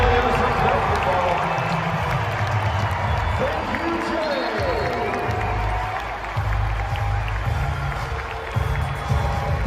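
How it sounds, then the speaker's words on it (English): An arena crowd at a Phoenix Suns basketball game against the Milwaukee Bucks cheers and applauds for Jae Crowder in a broad, sustained roar, with people talking over it. "I think the crowd's reaction to that was actually pretty impressive. It sounded like it was mostly cheering."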